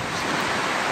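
Strong wind gusts roar across the microphone outdoors on a walk through The Hague, a dense steady rush filling the short moment without voices.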